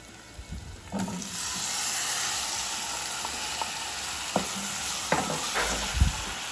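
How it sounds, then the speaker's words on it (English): Tomatoes frying in a pan on a stove at medium heat, a steady sizzle and hiss with a few scraping stirs and knocks from a utensil, close and alone. "Now it's time to add the tomatoes."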